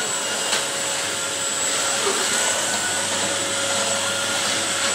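A Polti vacuum cleaner runs steadily with a loud, close, even motor whine and airflow rush. The sound stays constant for the whole stretch, with no voices.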